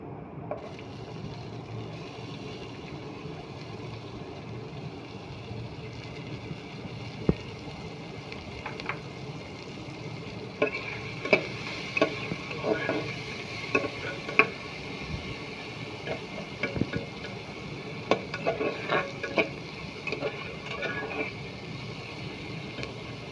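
Chopped onion goes into marinated mutton in a pan, starting as a quiet hiss that grows into a fuller sizzle with scattered clinks and scrapes of stirring, fairly soft and with no voices.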